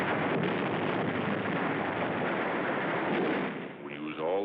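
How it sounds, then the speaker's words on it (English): Wartime battle on Tarawa with Marines using hand grenades: a dense, continuous roar of blasts and gunfire, loud and distorted throughout, fading slightly at the end. "Hand grenades."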